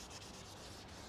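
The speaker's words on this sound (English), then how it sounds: "800 wet sanding" Wet sanding a motorcycle fairing by hand with 800 grit sandpaper: a faint, continuous rhythmic rubbing and scraping, close up, with no voices.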